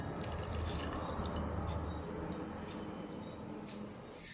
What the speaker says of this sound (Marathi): आता याच वाटीने मोजून अर्धी वाटी गरम केलेलं पाणी यामध्ये टाकूया